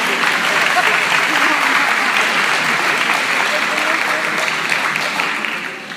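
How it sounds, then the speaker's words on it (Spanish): A church congregation claps for a small left-handed boy during a sermon, producing a loud, continuous wave of applause that holds steady and fades slightly at the end, with a voice faintly beneath. "Un aplauso para el pequeño zurdo."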